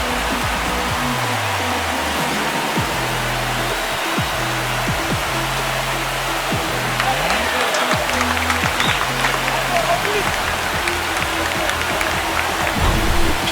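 A stadium crowd roars in MLB The Show during a Reds–Dodgers wild card game after a home run, a steady dense wash of cheering and noise sustained throughout, with a low musical or organ-like tone pattern underneath.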